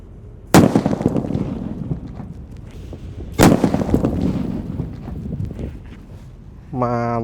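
A paper-wrapped firecracker, lit outdoors at dusk during Ramadan, bursts twice in sharp, loud blasts a few seconds apart, each crack followed by scattering debris and echo, with a short electronic tone at the end.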